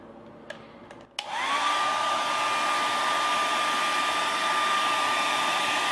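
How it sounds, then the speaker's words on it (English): Hair dryer switched on at high heat after a few clicks, settling into a loud, steady blowing whine with a constant pitched tone that holds to the end. "we're gonna blow the air dryer and like put it on high heat"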